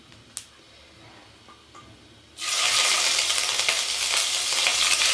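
A quiet pan with a single tick gives way to a sudden loud, steady sizzle as ginger garlic paste goes into hot oil with cumin, a dense close hiss that holds to the end, no voices.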